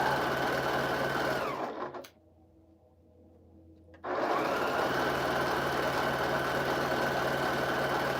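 Sewing machine running steadily while stitching jelly roll quilt strips, a close, continuous motor whir that stops for about two seconds and then resumes at the same level.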